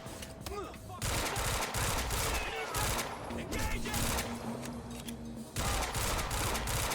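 Gunfire in a Quantum Break firefight, with sustained automatic bursts and rattling volleys filling most of the stretch in a dense, loud barrage, a short gap between bursts.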